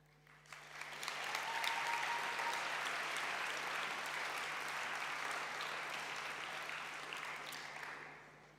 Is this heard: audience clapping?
yes